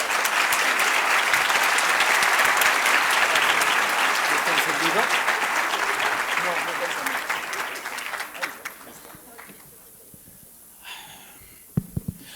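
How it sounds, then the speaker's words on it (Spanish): An audience applauds a guest speaker at an evening symposium lecture on the new left, with loud sustained clapping from a full hall that gradually thins and dies away to a few scattered claps near the end. "Un aplauso para Agustín Laje."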